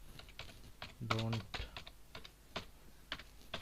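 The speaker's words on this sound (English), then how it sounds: "Let me quickly type it." Computer keyboard typed in irregular clusters of soft, close clicks, with a brief spoken word cutting in near the middle.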